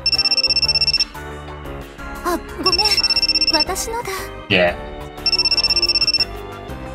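A phone ringtone from the video game Grisaia: Phantom Trigger rings in three loud bursts of electronic trilling, with game music and character voices playing between the rings.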